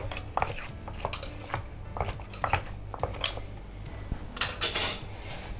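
Spatula scraping and clattering against a pan as moo yor pork sausage is stir-fried in a hurry for a ginger-less pad khing, with steady irregular metallic knocks and clinks close by.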